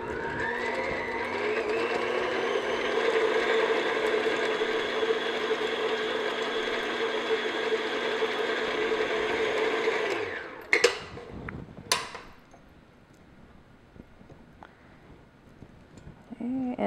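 An electric mixer beats room-temperature butter, a steady whirring hum for about ten seconds that then cuts off, followed by a few knocks and near quiet.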